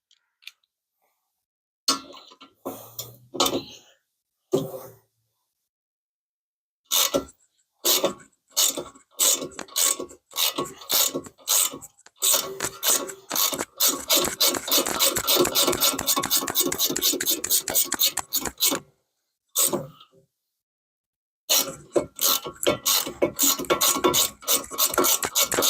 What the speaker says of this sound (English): Back onto the socket wrench.